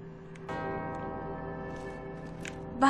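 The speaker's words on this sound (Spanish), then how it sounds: "Dos campanas resuenan en perfecta armonía." Two bells ringing together in harmony inside the video game Uncharted: Drake's Fortune, a sustained resonant chime hanging steadily, with a brighter metallic strike at the very end.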